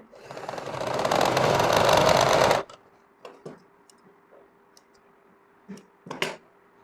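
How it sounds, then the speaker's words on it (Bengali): A sewing machine stitching thick rubber runs in one loud continuous whirring burst for about two and a half seconds, then stops, followed by a few faint clicks and handling knocks in a quiet room. "এখানে একটা সেলাই দিতে হবে বন্ধুগণ"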